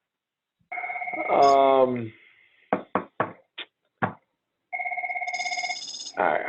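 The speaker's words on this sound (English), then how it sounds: "I'm just waiting for the captain to answer that phone" Telephone rings in a meeting room during a zoning board of appeals session, two separate rings heard clearly, with a few knocks and a brief spoken word between them.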